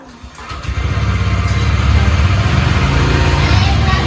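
A motorcycle engine starts with a brief crank and catches, then settles into a loud, close, rattling idle that holds steady to the end.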